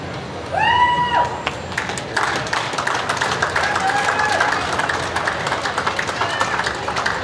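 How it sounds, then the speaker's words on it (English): Crowd applause rings out in a show arena after champion Holstein heifers are named at a fall national dairy cattle show. The clapping is steady and sustained under a few voices and a brief whoop near the start. "please follow with a round of applause"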